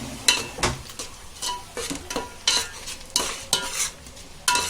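Crushed roasted cumin, Chinese salt and lemon juice are stir-fried in a pan for Chinese biryani. A spatula scrapes and clatters in sharp, separate strokes over a light sizzle, loud and close, with no voices.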